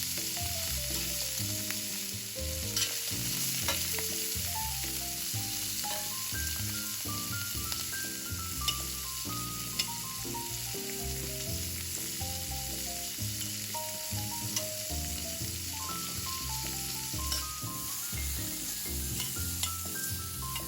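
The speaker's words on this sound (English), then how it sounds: "I'm going to quickly fry the shrimps" Shrimps fry in hot oil with a continuous, dense sizzle and crackle that holds steady for a long stretch, close by and fairly loud, with no voices.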